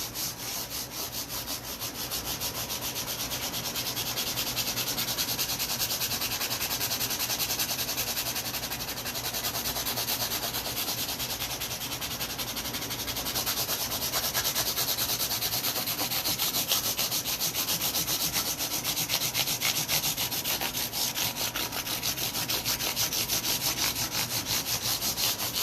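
Guitar frets are polished during a fret dress with steady back-and-forth rubbing strokes, a close, continuous scratchy rasp in a quick even rhythm, with no talk.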